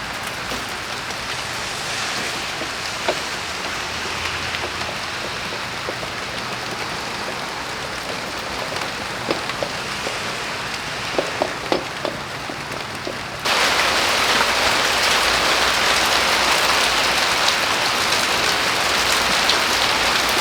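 Steady rain patters on a greenhouse roof at close range, with scattered heavier drops before the downpour abruptly grows louder and denser, continuing as a dense, even hiss with no voices.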